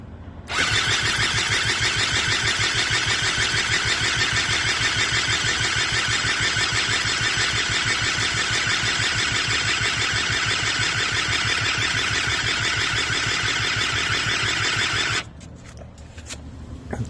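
An Eaton Beamer III engine being started with the choke on during a rebuild, a loud, steady, rapid buzzing run lasting about fifteen seconds before cutting out abruptly, followed by faint clicks.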